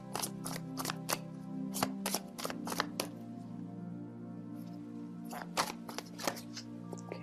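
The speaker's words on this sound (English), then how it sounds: "let me just pull out a card" Tarot cards being shuffled and drawn by hand: a run of crisp card snaps and riffles close by, then a pause and a few more flicks, all over a steady low hum.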